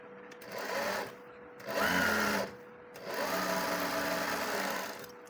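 A sewing machine stitches a kurti in three quiet runs of motor whir with brief pauses between them, close by and without talk.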